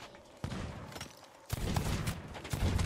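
Rapid gunfire crackles in a team deathmatch shooter game, dense bursts of close, loud shots that start abruptly, pause briefly and then resume more intensely.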